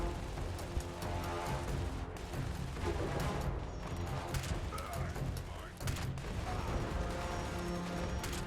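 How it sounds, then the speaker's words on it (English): Weapons firing in the video game Fallout 76, dense overlapping bursts of gunshots running continuously at moderate loudness, with a voice talking over the shooting. "I'm just kind of shooting at the odd one, not really focusing on killing them."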